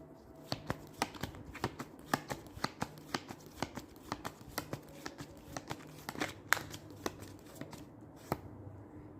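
Tarot cards are shuffled and drawn by hand, a quick series of crisp riffling snaps and flicks at an irregular but busy pace, close and fairly quiet, with no talking.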